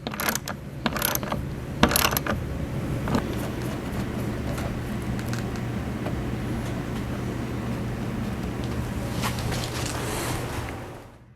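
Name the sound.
tightening airbag fittings on a Ram with a ratchet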